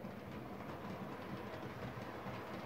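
An OO gauge model tank engine runs along the track with a quiet, continuous rumbling whir and faint rhythmic clicking of wheels, steady throughout and fairly faint.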